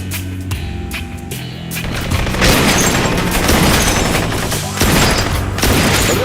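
Dense, continuous rapid gunfire from the Blue Estate video game fills most of the stretch, loud and close, with a few breaks, building after a quieter opening.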